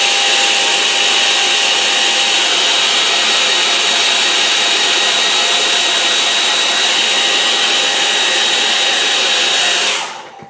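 A hair dryer blows over wet watercolour paint, a loud, steady close whine and rush of air holding for about ten seconds before switching off.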